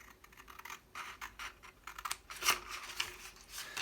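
Scissors snipping off paper tabs, a close series of quick irregular cuts and crisp paper crackles with a sharper snip near the middle, no voices.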